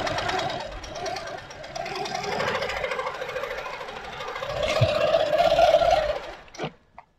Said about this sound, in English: So with this, you would just sew along.